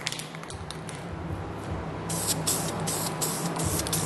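An aerosol spray can laying a first light coat of paint on an engine valve cover, a hissing spray in bursts that grows stronger in the second half, with some background hum; no talk.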